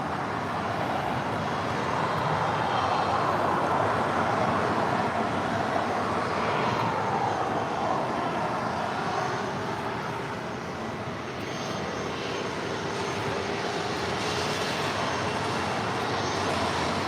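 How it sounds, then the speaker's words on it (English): Southwest Boeing 737-800 taking off at LAX, a continuous distant jet roar at moderate level that holds steady and dips briefly near the end. "This is Southwest 3080 taking off to Tucson, Arizona on a 737-800"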